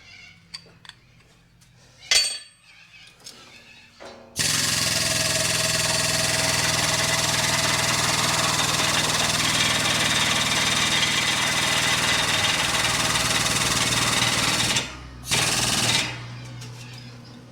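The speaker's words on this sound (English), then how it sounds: "I'm just going to slowly press on the press." A hydraulic press works steadily to push a wheel hub out of a Ford Territory AWD, giving a loud continuous rough mechanical roar for about ten seconds after a few clicks, then cutting off.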